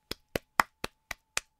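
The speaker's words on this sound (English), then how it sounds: "I'll add to the clapping." One person clapping alone, seven crisp, evenly spaced claps close by in a steady slow rhythm.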